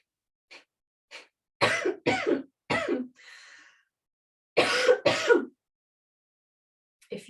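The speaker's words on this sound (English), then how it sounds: "because of my little coughing" Several short, dry coughs and throat clears in separate bursts during a yoga breathing session, close to the microphone with quiet pauses between them.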